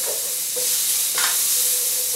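Onion, ginger and garlic sizzle steadily in a hot pan, a close, continuous hiss with a couple of brief stirring scrapes and no talking.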